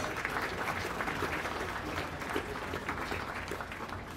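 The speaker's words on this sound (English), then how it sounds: "Let's give this young lady a round of applause." A crowd applauds a young exhibitor at a county fair beef show, with moderately loud, steady clapping filling the whole stretch, fairly distant in a large open space.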